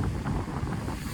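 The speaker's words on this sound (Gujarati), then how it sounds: "અત્યારે તો દરિયાના મોજા" Sea waves roll and wash ashore at Unchakotda beach, heard as a brief, steady roar of surf heavily buffeted by wind noise on the microphone.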